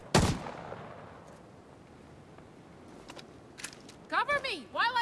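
Gunfire in the video game The Division 2: one sharp, loud shot rings out at the start and decays, then faint distant reports follow, and a voice-like warbling sound comes in near the end.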